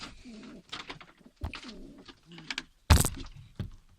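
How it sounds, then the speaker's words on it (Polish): A grey pigeon coos softly in low, throaty bursts, followed by a sharp thump or flutter near the end. "ładny siwy gołąb"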